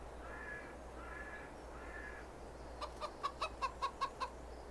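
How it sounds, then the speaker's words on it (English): Chickens in the farming game Farming Simulator 22: a few soft, drawn-out clucks, then a quick rhythmic run of sharp clucking calls, fairly faint over a low background hum. "Oh, you're a fine bunch of chickens, aren't you?"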